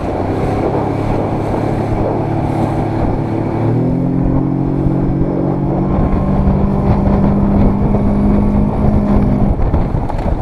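A Suzuki 60hp outboard motor pushes a Joker 420 inflatable boat with a fiberglass floor over waves, roaring loudly with heavy wind buffeting and rising in pitch as it accelerates partway through.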